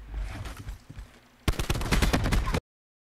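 The Stingray rifle fitted with rapid fire fires in Black Ops 4: after a quieter stretch of game noise, a loud, fast burst of shots lasts about a second before ending sharply.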